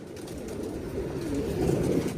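A pigeon coos softly nearby, a low, murmuring warble that rises slightly toward the end over a faint background hum.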